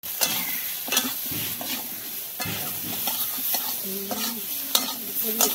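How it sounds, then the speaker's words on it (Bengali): Cauliflower frying in a pan with turmeric and salt, stirred repeatedly with scraping utensil strokes over a steady close sizzle, no talking. "সামান্য হলুদ, সামান্য লবণ দিয়ে ভেজে নেব"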